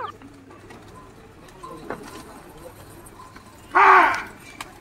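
A soft pigeon coo sounds briefly near the end over quiet outdoor background noise, with faint scattered sounds earlier.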